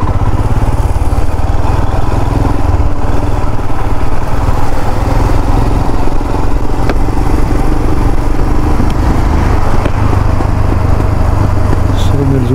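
A motorcycle rides at night on Bopdev Ghat in Pune, its engine a loud, steady close drone with wind rush throughout and no breaks.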